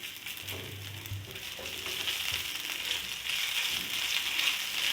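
Garlic and ginger frying with cumin in three tablespoons of cooking oil, a soft sizzle that swells louder partway through, with a brief stir near the start; close but fairly quiet, no talking.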